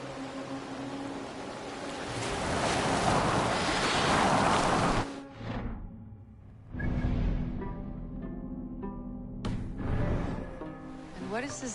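A boat sails on the open sea in Assassin's Creed Valhalla, with surging waves and wind rushing loudly, then fading to a softer wash under game music and talking voices.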